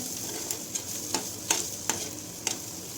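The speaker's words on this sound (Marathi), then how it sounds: "सर्व मिश्रण छान मिक्स करायचं जेणेकरून मसाला व्यवस्थित कांदा आणि टोमॅटोला लागला हवा" Masala stirred into onion and tomato in a pan for a dry fish dish, a soft sizzle under regular spoon scrapes and taps roughly every half second, close and fairly loud, with no voices.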